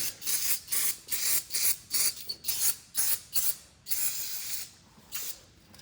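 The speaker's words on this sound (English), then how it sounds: "I'm also going to spray the end of the cylinder rod here." Rhythmic hissing spray bursts in quick succession, harsh and close, with a steadier hiss toward the end, as the end of a cylinder rod on a John Deere 260B backhoe stabilizer is sprayed.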